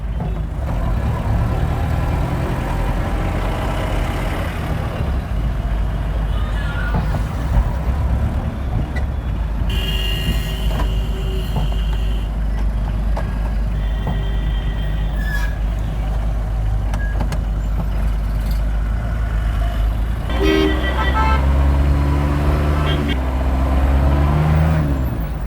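A restored Fiat Premier Padmini 137D with a hand gear shift drives in third gear on a main road in traffic, its engine a steady close drone with road rumble and brief passing vehicle sounds.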